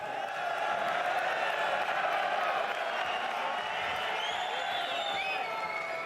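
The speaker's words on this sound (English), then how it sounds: "Some noise from the crowd to start this third round." Crowd noise at a lightweight fight at the start of the third round, a steady distant roar of cheering and murmur with occasional whoops, continuous and moderately loud.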